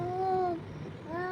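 A young child imitates a cat's meow with two drawn-out, wavering meows separated by a short pause, close and fairly clear.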